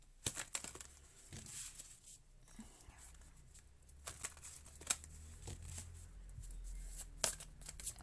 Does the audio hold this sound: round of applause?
no